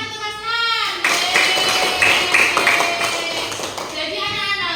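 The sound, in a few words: class applauding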